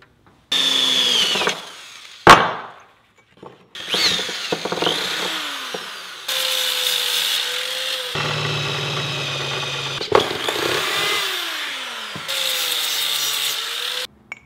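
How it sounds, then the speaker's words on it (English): A power drill whines in repeated bursts, biting and grinding through a metal motor mount to enlarge a bolt hole, with short pauses and a sharp clunk between runs. "now we need to drill this bish out"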